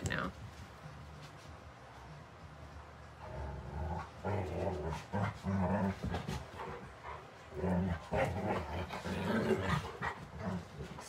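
Dogs barking and yipping in short irregular bursts at moderate distance, mixed with a person talking nearby over a quiet room background.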